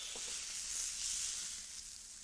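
Sausages sizzle in a frying pan, a soft, even hiss heard from a short distance. It carries on alone, with no talk over it.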